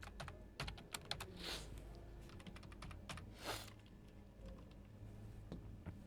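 Rapid, irregular keystrokes on a computer keyboard while HTML code is entered, soft and fairly close, with a few brief pauses between bursts and no talking.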